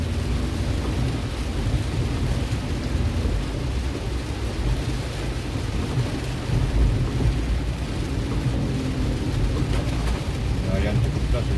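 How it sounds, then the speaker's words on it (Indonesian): Heavy rain pours down on Palembang city streets in a steady, dense roar, with low rumbling traffic underneath and no pause throughout. "Yang cukup deras hujan."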